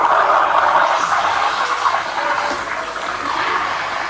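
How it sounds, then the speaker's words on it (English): Bellman stovetop steamer stretching milk: a steady, loud hissing rush of steam into milk that continues throughout, with slight wavering in intensity and no voices. "onto the milk stretching"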